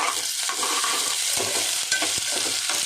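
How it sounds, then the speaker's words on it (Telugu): Ginger garlic paste fries in a pan with a steady, close sizzle and occasional stirring scrapes, with no voices. "ఓకే, వేగుతుంది."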